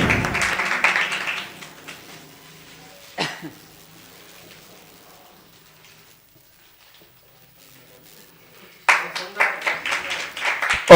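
Applause and scattered clapping from a crowd at a Diwali award ceremony honouring singers and musicians, a busy patter at the start, then a lull with a brief burst, before loud clapping returns near the end.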